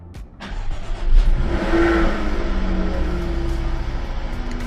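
A Jaguar F-Type's engine cranks and fires, then climbs into a loud, sustained rev that settles into a steady, throaty idle-level roar close by.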